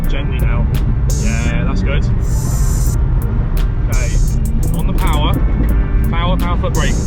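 A Nissan 350Z drifts on a track, its engine roaring steadily up close with shifting pitch as tires squeal in bursts, while an instructor talks over the noise.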